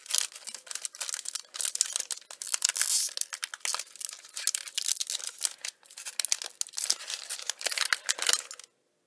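Loud, continuous crinkling and tearing of foil trading card pack wrappers being ripped open up close, steady rustling for several seconds, then it stops.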